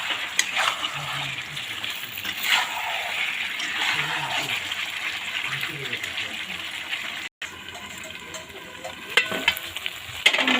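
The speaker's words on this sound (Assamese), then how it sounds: "মাংসখিনি ভাজা হৈছে।" Local chicken meat for an Assamese-style curry fries in a pan, a loud continuous sizzle with scraping stirring strokes throughout and a brief break midway, with no voices over it.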